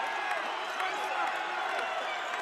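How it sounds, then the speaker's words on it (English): Arena crowd at an NCAA men's basketball game, UAB versus UTEP, roaring steadily after a made three-pointer, a dense continuous wash of cheering and clapping that holds loud throughout. "And now the crowd gets even louder"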